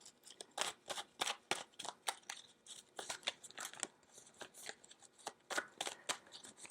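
Tarot cards are shuffled and laid out in quick, crisp flurries of riffling and snapping card sounds, close and fairly quiet, in an irregular rhythm of short bursts.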